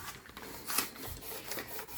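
A Scotch-Brite pad scuffs a hubcap from a 1985 Mercedes 300TD wagon before painting, giving quick repeated rasping strokes, close and fairly soft, with no talking.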